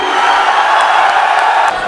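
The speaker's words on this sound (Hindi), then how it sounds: "आप सबकी भरपूर तालियों में" Audience at a mushaira poetry recital erupts in dense, loud cheering and applause, a steady roar of crowd noise lasting about two seconds without pause.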